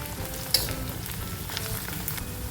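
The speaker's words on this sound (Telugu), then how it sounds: "సన్నగా కట్ చేసుకున్న పచ్చిమిర్చి కూడా వేసుకొని ఫ్రై చేసుకోవాలి" Sliced onions and finely cut green chillies fry in a pan for dhaba-style palak dal, a close, even sizzle with a sharp utensil clink near the start and light stirring scrapes.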